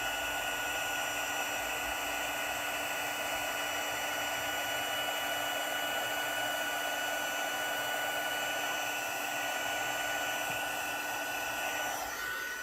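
A heat gun warms white embossing powder, blowing a steady high-pitched whine and airy roar that stays constant and close throughout, then eases slightly at the very end.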